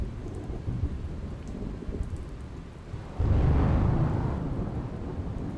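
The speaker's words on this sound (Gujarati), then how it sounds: "પાટણ જિલ્લામાં ભારે પવન સાથે વરસાદ" Heavy rain with strong wind in Patan district, Gujarat, a steady broadband roar that swells sharply louder about halfway through, with low rumbling that may be thunder, no voices.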